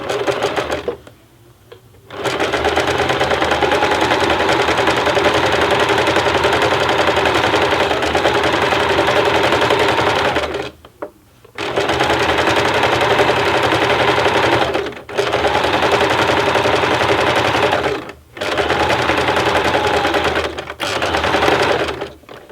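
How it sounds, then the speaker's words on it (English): A sewing machine runs a zigzag stitch across the edge of a handwoven tote bag where the weaving meets the fringe, stitching in steady sustained bursts with brief pauses between runs, close and loud. "set it to zigzag stitch, and do the same thing so where the weaving meets the fringe"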